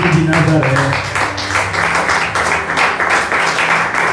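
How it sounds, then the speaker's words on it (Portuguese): Church congregation clapping in a brisk, dense burst, with rhythmic hand claps and some voices and musical tones mixed beneath the applause. "Quantos podem aplaudir ao Senhor Jesus de Nazaré?"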